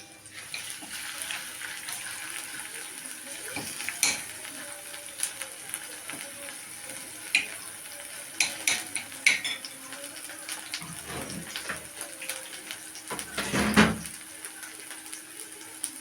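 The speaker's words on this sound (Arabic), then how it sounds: "يتحمروا مع بعض كلهم" Ingredients sizzle together with ground hot pepper in a pan, a steady close-up frying hiss broken by occasional clinks of a utensil against the pan.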